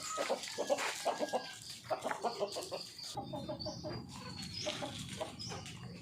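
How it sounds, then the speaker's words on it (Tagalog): Farm chickens cluck and call repeatedly at close range during a morning feeding, with brief overlapping bursts and a few higher squawks over a steady outdoor background. "Yan po ang mga alagang manok"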